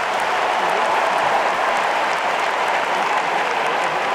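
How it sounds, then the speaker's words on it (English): Steady, sustained applause from a large tennis crowd at a US Open semifinal, dense and even throughout with no break, a full stadium clapping in appreciation after a point in the fourth set. "you can hear it in this crowd, how appreciative they are of Tiafoe's level of play right now"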